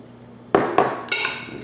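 A quick stir of macaroni salad with elbow pasta and imitation crab meat in a bowl, giving three sharp spoon clinks and scrapes against the bowl, close and distinct.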